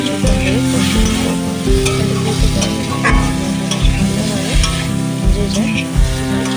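Cauliflower florets sautéing in hot oil with spices for a fish curry, a steady loud sizzle with stirring scrapes throughout, backed by a continuous low hum or music.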